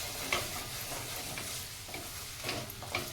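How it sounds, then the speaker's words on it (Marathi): Black peas being sautéed and stirred in a thick gravy in a pan for a Konkan-style curry, a soft steady sizzle with a few louder scraping stirs near the start and end, no voices. "ह्याच्यामध्ये घालून घ्यायचं ग्रेव्हीमध्ये दोन मिनटं आता चांगलं परतून घ्यायचं"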